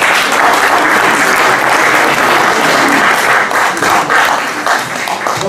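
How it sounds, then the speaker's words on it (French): Loud, dense audience applause at an anniversary concert in a synagogue, a continuous roar of many hands clapping for a keyboard accompanist, close and sustained with no speech. "merci d'applaudir"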